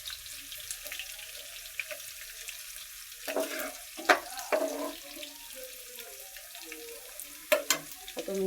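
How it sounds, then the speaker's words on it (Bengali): Prawns and ash gourd ingredients fry in hot oil, a quiet low sizzle with scattered sharp clinks and scrapes of stirring at irregular intervals. "এখন এগুলো একটু বাদামি কালার করে নেব ভাজতে ভাজতে।"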